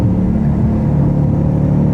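A stock Ford Shelby GT500 rumbles loud and close as it drops gears, a dense, steady engine growl with no voices over it.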